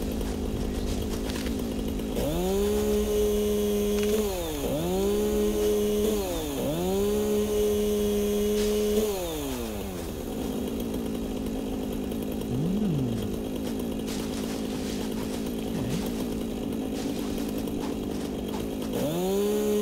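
A chainsaw in the video game Satisfactory revs repeatedly in long sustained bursts, dropping between revs, then idles with brief blips before revving again, loud and close.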